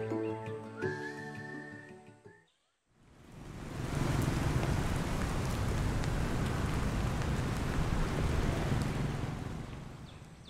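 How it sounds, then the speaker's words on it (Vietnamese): In an animated cartoon, a short tonal musical phrase stops, then steady heavy rain hisses continuously and evenly, loud and close, with no voices. "hôm nay trời mưa to"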